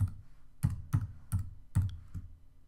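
Keys clicked on a computer keyboard while entering a name server address, five distinct clustered keystroke bursts spaced roughly evenly, close and moderately loud, with no talking.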